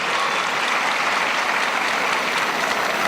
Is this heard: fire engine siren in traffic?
no